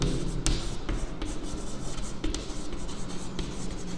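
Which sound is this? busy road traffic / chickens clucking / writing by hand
writing by hand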